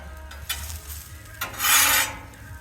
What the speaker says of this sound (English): Onions are sizzling.